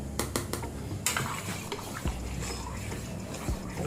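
A spoon stirs mint chutney into water for pani puri, with a few quick metallic clinks against the vessel at the start, then steady close swishing and scraping.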